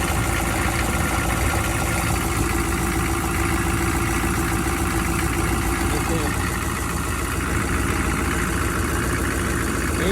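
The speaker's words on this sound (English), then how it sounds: "The engine obviously is still pretty cold." A cold 6.5 turbo diesel engine idles in a steady, continuous rumble with a busy clatter, running alone at close range without pauses through the whole stretch.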